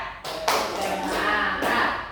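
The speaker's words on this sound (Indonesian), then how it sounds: "Oke, tepuk semangat dulu." A school class does a rhythmic spirit clap together, with short bursts of group clapping broken by brief gaps, close and fairly loud, voices mixed in.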